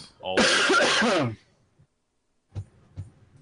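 A single loud harsh cough or throat clearing close to the microphone, followed by faint small sounds after a pause.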